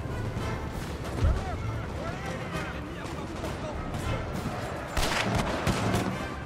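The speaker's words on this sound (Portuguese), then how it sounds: "Os caras estão tomando tiro dali de cima." Battle in Napoleon: Total War, a Napoleonic-era strategy game: dense musket fusillades and booming cannon shots roll beneath a speaking man, with a heavier burst of gunfire near the end.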